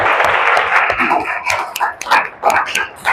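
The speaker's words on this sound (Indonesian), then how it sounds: "bisa tepuk tangan dulu" Audience clapping in a classroom music lesson on contemporary music, a short burst of fairly close hand claps with irregular rhythm and some voices mixed in.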